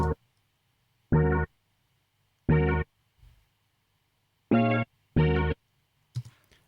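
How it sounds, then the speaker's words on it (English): A harmonic sample run through an auto filter with a slow LFO plays in short separate bursts, each with a subtly shifting, filtered timbre, separated by silence and a few faint clicks. "So I've used a slow rate on the LFO on the auto filter"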